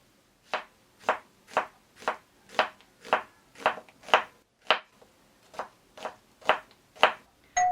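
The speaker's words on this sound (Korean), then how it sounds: "양파 먼저 채 썰어 볼게요" A knife slices an onion into thin strips for yaki udon, a dozen crisp, evenly spaced chops on a board, close and clear with quiet pauses between strokes.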